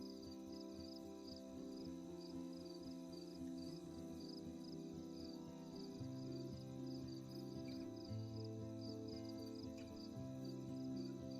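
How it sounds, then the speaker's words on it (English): Crickets chirp steadily through a night scene in the Life is Strange video game, a faint continuous pulsing trill layered over soft, sustained background music. "It's what I hear every night. Not the music, obviously, the crickets."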